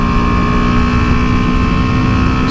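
A BMW G310GS motorcycle engine braking after a downshift, a steady loud droning hum with strong tonal harmonics that holds evenly throughout, with no speech.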